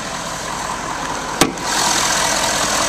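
A Ford F-350 Super Duty with a 6.7L Power Stroke diesel engine idles with a loud, steady, even drone, broken once by a sharp click, then running slightly louder.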